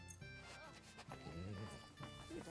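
A dog in the video game Kingdom Come Deliverance 2 barks and yips a few times amid game voices and background sounds, with short bursts spread across the moment and someone talking over them.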